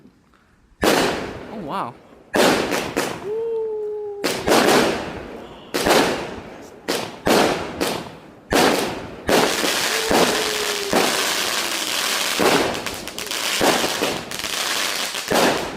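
A Killer Clown 36-shot 200-gram firework cake with color and bang effects fires a rapid series of loud, close booms and crackling bursts with whistling tails, nearly continuous for over ten seconds, while a person exclaims over it.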